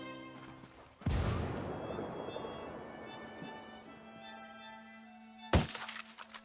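Frag grenade going off in the shooter Ghost Recon Wildlands: a sharp loud blast near one second with a long rumbling, debris-filled decay, then a second sharp crack-like hit near the end.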